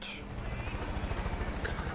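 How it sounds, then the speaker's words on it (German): A steady low thudding rotor drone of a helicopter in the video game Far Cry 5 fills the clip, constant and fairly loud, with no voices over it. "Dreckiger Helikopter, Mann."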